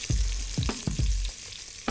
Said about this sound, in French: Alors là j'ai fait sauter un petit peu de légumes